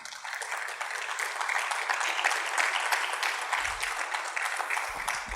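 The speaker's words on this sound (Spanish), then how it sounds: "Dele un aplauso al Señor." A church congregation applauds the Lord during a Spanish-language sermon, with a steady wash of many hands clapping at moderate volume and a few low thumps near the end.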